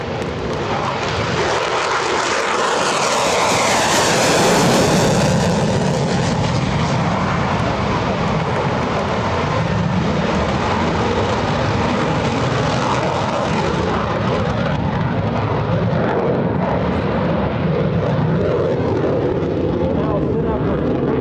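An F-16C Fighting Falcon fighter jet flies a demonstration at an air show, its loud, broad jet roar sustained for over twenty seconds with a sweeping pass as it nears and moves off, and a voice talks faintly underneath.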